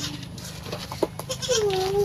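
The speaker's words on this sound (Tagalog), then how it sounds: "Yan yung kambing ko." A farm goat lets out a clear, wavering bleat near the end, preceded by short scattered bleats and rustling against a steady background hum.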